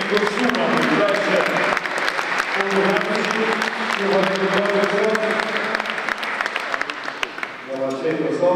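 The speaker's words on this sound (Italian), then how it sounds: "Facciamo ancora un applauso" An award-ceremony audience applauds steadily for a cycling honoree, dense overlapping hand claps filling the hall at moderate loudness while a voice speaks over the top.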